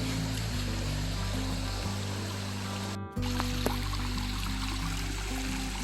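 Stream water runs over rocks at a hiking trail crossing in Lake Superior Provincial Park, a steady close trickling wash that fills the whole stretch alone, with a brief dropout partway through.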